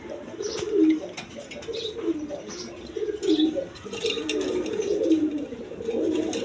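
Red-colored pigeons coo in a steady, repeating low murmur at a pigeon sale, fairly close, with faint chirps and scattered clicks around them and no talk.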